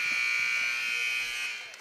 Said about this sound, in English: Okay, well, there's the buzzer.